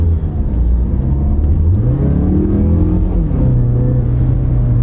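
A car with a 6-speed automatic pulls away from a stop in drive, its engine revving and rising in pitch, then dropping back on a crisp upshift before climbing again, heard close and loud.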